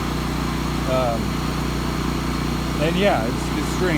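A Miller Trailblazer welder generator's engine is revved up, running steadily at high speed with a constant broad drone throughout, while someone talks over it.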